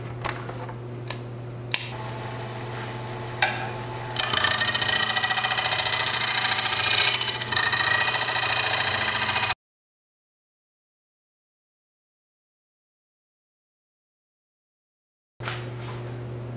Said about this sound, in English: I'm going to just do a little bit of shear scraping on this.